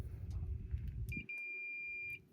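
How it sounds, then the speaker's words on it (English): A single high, steady electronic beep from a Fluke multimeter on continuity test sounds for about a second after some low rumbling handling noise, then cuts off. "When you're making a complete circuit, the fluke meter is going to beep"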